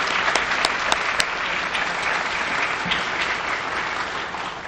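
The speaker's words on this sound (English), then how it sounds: "I'd like the parents to give yourselves a round of applause for the encouragement that you gave your children." Parents at a junior police academy graduation give a sustained round of applause, dense clapping from a large crowd that tapers slightly toward the end.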